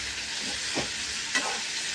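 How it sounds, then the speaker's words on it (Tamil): Garlic, onion, tomato and green turkey berries sauté in oil in a pan, giving a steady close sizzle with two brief scraping stirs, and no voices. "இது பூண்டு, வெங்காயம், தக்காளி, பச்சை சுண்டைக்காய் இது எல்லாத்தையும் போட்டு நல்லா வதக்கிடணும்."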